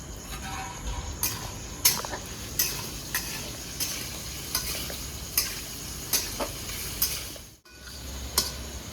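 Potato pieces frying in oil with salt and turmeric, a steady sizzle broken by regular scrapes and clinks of a spatula stirring in the pan, close-up with a brief gap near the end.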